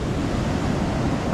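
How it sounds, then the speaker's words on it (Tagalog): Ocean waves breaking on a shore, a continuous broad rushing wash of surf with wind noise, steady and loud throughout. "Tsaka ang layo ng pisa ng alon oh."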